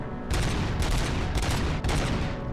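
Dense bursts of gunfire from the RoboCop Rogue City video game, loud sustained volleys with three rapid surges across a couple of seconds, no talking.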